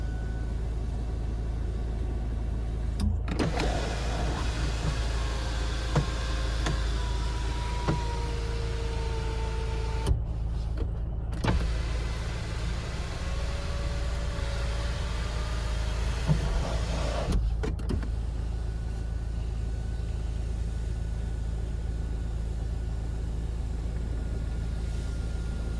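A car's panoramic sunroof motor runs with a steady electric whir over a constant low cabin hum, with sharp clicks and thumps as the panel starts and stops, and no talking.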